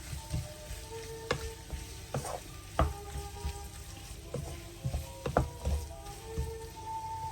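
Tomatoes and masala being stirred together in a pan for mushroom butter masala, a soft sizzle under scattered scraping clicks of the spoon against the pan, close and steady with no talking.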